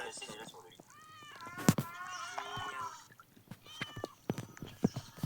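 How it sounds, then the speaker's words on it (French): A game cat lying on a bed gives several drawn-out meows, fairly close and clear, between sharp clicks and bumps, with people chatting over it. "Oui, c'est notre chat dans le jeu."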